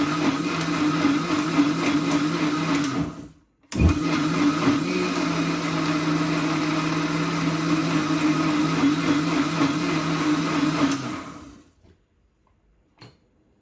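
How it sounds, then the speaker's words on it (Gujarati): A kitchen mixer grinder blending boiled amla, reetha and shikakai with water into a thick paste, running loud and steady with a brief pause, then stopping and falling silent. "પાણી નાખી પછી મિક્સીમાં નાખવાનું"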